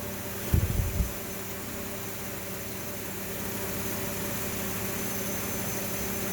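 The electric cooling fan on a 2003 Jeep Grand Cherokee that has been overheating whirs steadily with a constant broadband airy rush. A brief knock or clatter comes near the start, and the whir continues unchanged afterwards.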